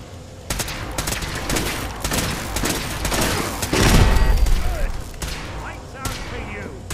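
Rapid gunfire crackles in bursts through a Fallout 4 firefight, with dense volleys of shots and a heavier boom midway, loud and close, while voices talk underneath.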